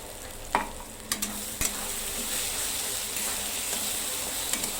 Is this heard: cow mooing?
no